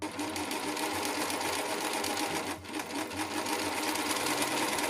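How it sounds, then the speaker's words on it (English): An overlocker serging and finishing the raw edge of a seam on a Liberty London boho shirt, with a steady whirring motor and rapid needle chatter running continuously and loud, a brief dip midway, with no speech. "I'm actually just going to go on the overlocker and finish that edge off"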